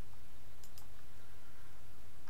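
Mouse clicks in CAM350 PCB software while querying items with a hotkey: a few faint, quick desktop clicks over low steady hum, no talk.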